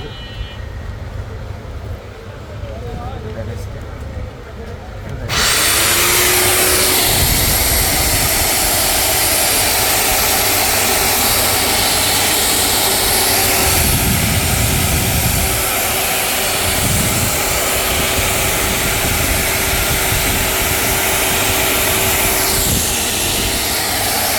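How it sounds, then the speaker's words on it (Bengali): Inco brand core drill machine with a speed-control circuit switched on after a few quiet seconds, then a loud, steady high-pitched motor whine holding constant to the end. "এটা হলো কোর মেশিন"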